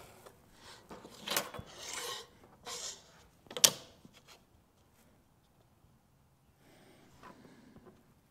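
Pencil drawing a line on a wooden spatula blank, faint scratchy rubbing strokes in a few short bursts, quiet and close, then near silence.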